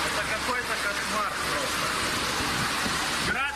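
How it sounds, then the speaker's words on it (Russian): Hailstones the size of nuts pour down in a steady, dense, hissing roar that never lets up. It sounds close and loud throughout. "Град как орех."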